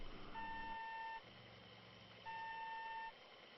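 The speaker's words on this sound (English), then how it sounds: "Those backup beeps, kind of annoying." Two spaced backup beeps from a truck in Euro Truck Simulator, each a steady electronic tone lasting just under a second, over a low idling hum with no talking.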